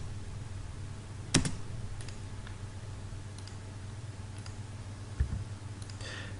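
A couple of sparse, sharp keystroke clicks on a computer keyboard during Civil 3D drafting, standing out over a steady low electrical hum in a quiet room.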